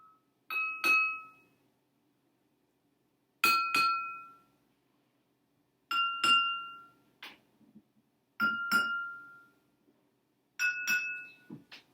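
Five separate pairs of light taps from a wooden ruler on glasses of water, each ringing briefly with a clear pitch, spaced evenly apart in an otherwise quiet room.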